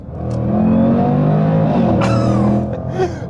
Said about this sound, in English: That raspiness on the gear change is absolutely pure joy.